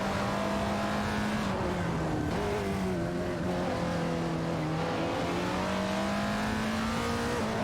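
Several race cars, including a Lotus Emira and Jaguar F-Type Project 7S, run in an AI racing simulator game, their engines droning steadily and rising and falling in pitch through gear changes for the whole stretch, loud and continuous.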